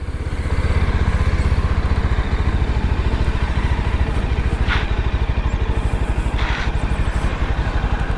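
A Yezdi Scrambler motorcycle engine runs loud and close with a steady, rapid exhaust pulse throughout, holding a constant drone with no speech over it.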